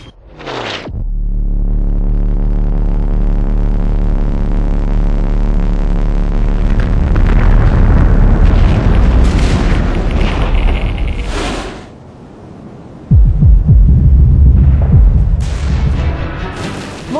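A nuclear detonation in World in Conflict opens with a sharp crack, then swells into a huge, sustained rumbling roar that throbs for about ten seconds, fades briefly, and surges again with a heavy low-end boom.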